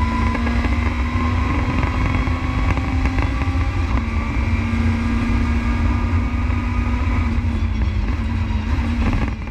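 A WTCC touring car engine on the Nordschleife in 2017 runs at full throttle uphill, a loud steady drone with a sustained harmonic tone and constant road and wind roar, no talk.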